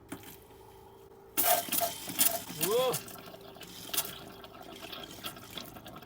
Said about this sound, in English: I just wanted to know if the water pump worked, and it does